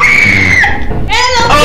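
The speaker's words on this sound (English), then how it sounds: "Oh, I don't want to know why you're screaming." High, loud scream from a player in game voice chat in Lethal Company, a sustained shriek that wavers, then breaks into further squealing cries.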